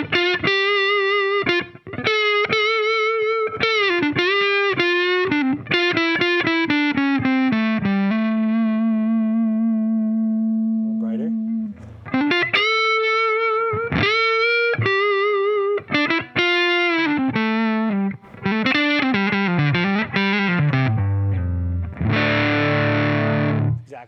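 Electric guitar played through a Keeley Angry Orange pedal with its DS-1 switch engaged alongside a Big Muff, loud saturated distorted notes and sustained chords in phrases with brief gaps, ending on a dense fuzzy strummed chord.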